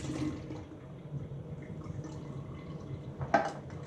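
Juice drains from opened canned peaches into a container: a soft, continuous trickle with a few drips, and one louder splash near the end.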